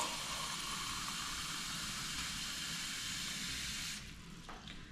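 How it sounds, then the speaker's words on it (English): Water runs steadily into cornmeal being readied for cooking, a continuous close hiss and splash that drops and thins slightly near the end, with no talking. "So we're just going to add some water to it."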